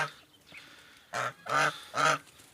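Three loud, nasal honks from a goose in quick succession, close by, after a few faint softer calls.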